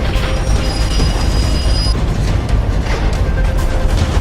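A train rolls along rails, a loud, continuous rumble with metallic screeching and rattling from the wheels, steady throughout with no voices.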